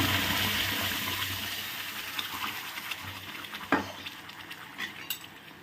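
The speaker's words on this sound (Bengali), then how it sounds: "যখন জিরেটা রোস্ট হয়ে যাবে ভালো করে, তখন এর মধ্যে দিয়ে দেব এই পেস্টটা" Spice paste is dropped into a pan of roasted cumin, hissing in a sizzle that fades while a spoon stirs and scrapes, with a few sharp clinks.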